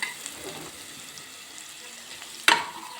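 Cumin and mustard seeds sizzle in hot oil with ground onion and garlic, a soft steady frying hiss broken near the end by one sharp, bright spattering crackle.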